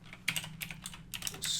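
Typing on a computer keyboard produces a quick, uneven burst of soft key clicks, close and quiet, with no voices.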